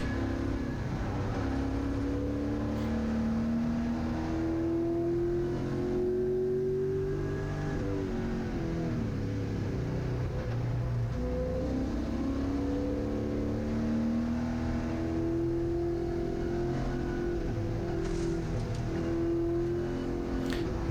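A GLTC race car engine drones and revs on track at Gingerman Raceway, heard from inside the car as a steady mid-pitched roar that rises and falls through gear changes and throttle lifts, with no talking.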